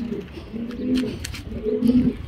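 A racing pigeon coos close by in a loft, two or three soft throaty phrases in a row, low and rounded, with faint background rustle.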